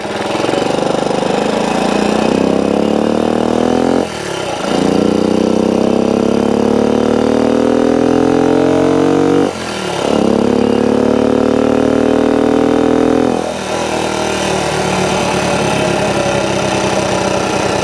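A 1964 Honda CT90 motorcycle engine runs loudly throughout, revving up in rising sweeps, dropping off sharply between gear shifts three times, then climbing again.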